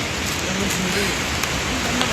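Steady rain falls on a mountain path on the descent from Yamunotri, a dense continuous hiss with scattered drops, close and constant, with faint voices underneath.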